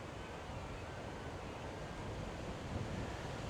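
Strong wind blows outdoors around a small DJI Neo drone, a steady broadband rush and rumble of wind buffeting the microphone, loud and unbroken, with no talking.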